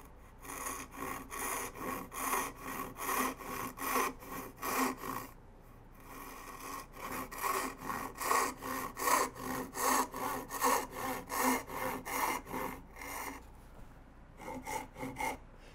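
A hand saw cuts down the cheek of a wooden tenon held upright in a vise, a steady rhythmic rasp of back-and-forth strokes, close and clear, with a brief pause midway.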